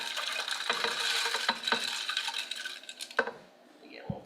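About six cups of ice cubes clink and clatter as they drop into a blender, close by and irregular, thinning out toward the end.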